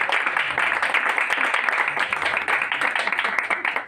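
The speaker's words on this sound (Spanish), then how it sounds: "Aplauso, por favor." Audience clapping at a book presentation, a brisk, fairly close burst of applause that stays dense and even throughout, with some voices mixed in.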